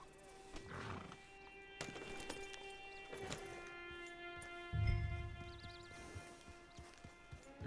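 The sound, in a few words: horse whinnying and hooves in Red Dead Redemption 2 video game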